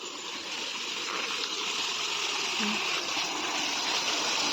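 Spring water bubbling up through soil and flowing away in a small stream, a steady soft trickling and gurgle, faint and continuous with no voices over it.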